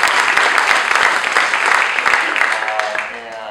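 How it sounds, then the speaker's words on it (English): Audience applause at a Hispanic Heritage speech at Whittier College, a dense burst of clapping from a crowd, loud and continuous for a few seconds before fading, with a voice briefly audible near the end. "Yay, let's applaud Dolores Huerta."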